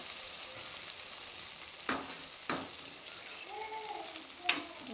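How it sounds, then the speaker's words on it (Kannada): Capsicum and potato pieces fry in oil under a closed lid for a simple potato and pea gravy, giving a soft, continuous sizzle with a few sharp utensil clicks and scrapes. "ಲಿಡ್ ಕ್ಲೋಸ್ ಮಾಡಿ ಇದನ್ನು ಫ್ರೈ ಮಾಡ್ಕೊಳ್ತಾ ಇದ್ದೀನಿ"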